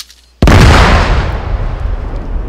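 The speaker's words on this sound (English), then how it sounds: "Makes a nice little explosion." An IED blast destroying a barrier in the video game Arma 3: a sudden loud boom after a short quiet moment, followed by a long rumbling, crackling decay.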